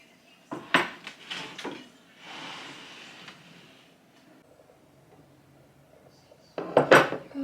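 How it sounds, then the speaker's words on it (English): Roasted delicata squash scraped out into a bowl with a spoon, heard as several clattering, scraping bursts of utensil against dish, a quieter rustle in between, then another loud cluster of clinks at the end. "I roasted the delicata squash, so I'll just scrape this out into my bowl"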